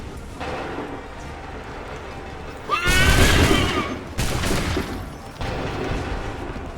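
Musket volleys from Assassin's Creed III erupt in a loud, dense crackling burst, followed by a second ragged volley and lingering battlefield rumble, with steady ambient noise around them.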